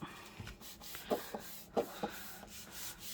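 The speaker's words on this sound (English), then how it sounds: "So just give it a rub down." Paper divider card rubbed down by hand, a few soft brushing strokes with light papery rasps, quiet and close.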